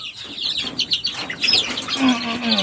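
Chickens, including three roosters, cluck and squawk close by in a busy outdoor flock, with chirpy calls overlapping and a brief flutter of wings.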